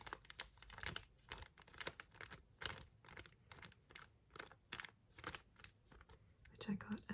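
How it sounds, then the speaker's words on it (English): Someone handles a very old eye warmer mask, making soft, close crinkling and crunching with an irregular rhythm of rustles and taps, all at a quiet, intimate level. "Another very old and very crinkly mask is this eye warmer."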